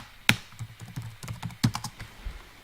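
Close, brisk typing on a computer keyboard while writing code, a quick irregular patter of key clicks with a few sharper louder strikes, no voices.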